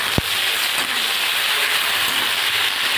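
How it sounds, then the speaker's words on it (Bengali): Brinjal (eggplant) pieces frying in hot oil with green chilli and potato, a steady dense sizzle and crackle throughout with a brief sharp pop near the start, no talking. "বেগুন দিয়ে একটু আমি ভেজে নেব, খুব বেশি ভাজবো না, হালকা করে একটু ভেজে নেব।"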